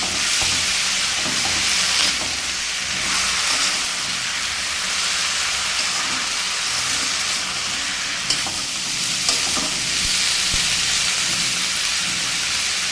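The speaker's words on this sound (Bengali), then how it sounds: "এবার এটাকে মিশিয়ে একটু সময় ভাজবো।" Bottle gourd greens and taro stir-frying in a pan seasoned with nigella seeds, giving a loud, continuous sizzle with intermittent scraping and stirring clatter throughout.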